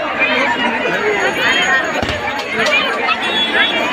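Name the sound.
large crowd gathered at Durga Puja Ravan effigy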